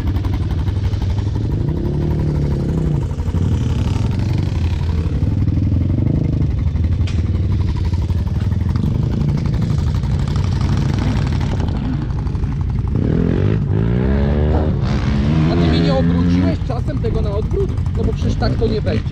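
A quad ATV engine idles and runs loudly and steadily right after a carburetor repair, with a continuous mechanical drone and clatter throughout and people talking over it.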